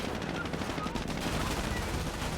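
Heavy, continuous automatic fire from a German MG42 in the strategy game Company of Heroes 1, a dense, steady battle roar with no clear breaks, mixed with other combat noise.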